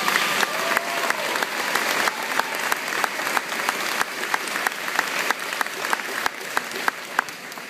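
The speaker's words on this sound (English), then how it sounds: "please join me in giving them a round of applause" Applause for parents and guardians at a high school graduation, moderately loud clapping with distinct individual claps standing out over a steady wash of hands.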